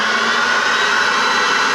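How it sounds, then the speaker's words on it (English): Fire truck pumper engine running loud and steady nearby, a broad droning roar with a rising high whine layered over it, continuous with no voices. "That's our pumper. You hear this thing start whining real bad here in a second."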